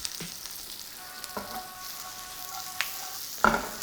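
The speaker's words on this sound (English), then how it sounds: "And in with our shallots" Shallots sizzling in a hot pan, a quiet steady frying hiss with a few light clatters of the pieces landing and a sharper crackle near the end.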